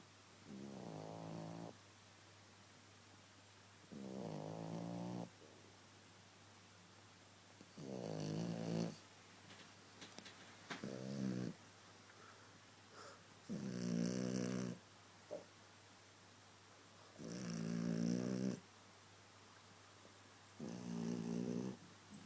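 A dog snores in slow, regular rhythm, with about seven long, rasping inhalations separated by quiet pauses, close and fairly soft, with no talking.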